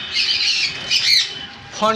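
Fawn silver Java sparrows squawk in a continuous run of shrill, high, rasping calls at close range, with a brief sharper call at the very end.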